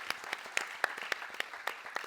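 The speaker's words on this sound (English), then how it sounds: "We need a round of applause for that one." Audience applause at a corporate leadership panel of African CEOs, sparse claps in an irregular rhythm at moderate loudness, heard alone with no talk.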